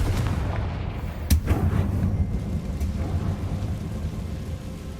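In the Hogwarts Legacy video game, a Confringo fire spell lands with a sharp crack, followed by a deep, rumbling boom that fades out over several seconds; no speech.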